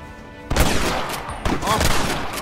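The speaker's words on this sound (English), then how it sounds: "Marston, use that Gatling gun!" Gatling gun fire in the Red Dead Redemption video game: two loud bursts of rapid, dense shots, each starting sharply and rolling on at close range, with faint game sounds underneath.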